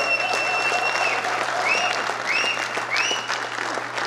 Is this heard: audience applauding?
yes